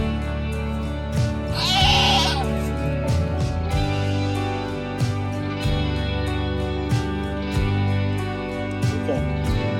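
A Kiko goat doe bleats loudly during birth, giving one strong drawn-out cry and several shorter calls, with a person talking softly underneath.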